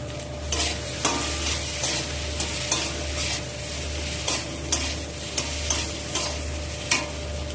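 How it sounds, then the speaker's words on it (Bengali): Ground spice paste with turmeric and chili powder is stirred in a pan for mango fish curry, producing repeated scraping strokes over a constant sizzle and a steady low hum. "মশলাকে নাড়াচাড়া করে এবার আমি জল দিয়ে দিলাম।"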